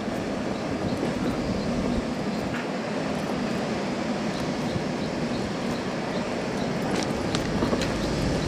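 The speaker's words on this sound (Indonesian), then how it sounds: "Kereta Papandayan tiba di stasiun Cibatu." The Papandayan passenger train pulls into Cibatu station in Garut, giving a steady, loud broadband rumble that holds evenly throughout with faint metallic squeals near the end.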